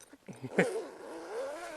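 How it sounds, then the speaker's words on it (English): A large, chunky zip is pulled open on a MaxiTrax awning bag, giving a short rasp followed by a smooth, drawn-out zipping sweep, close and moderately loud. "Nice big chunky zips,"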